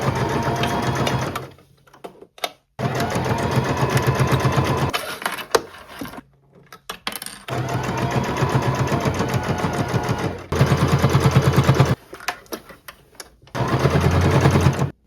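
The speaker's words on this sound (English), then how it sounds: "now we're just gonna go along and do a top stitch along the whole perimeter" A sewing machine top-stitches bias tape around the perimeter of a shirt, running in loud, close bursts of rapid stitching broken by several short stops and restarts.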